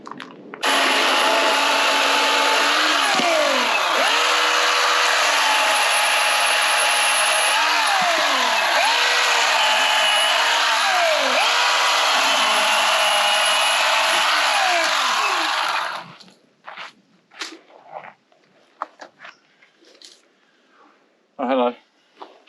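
A Ryobi power tool runs hard and continuously for about fifteen seconds while clearing storm damage at a roadhouse, its loud whine dipping several times under load before cutting out, followed by scattered knocks and handling noises.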